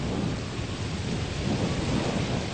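Heavy, roaring rain pours continuously with a deep rumble of thunder underneath, loud and unbroken throughout.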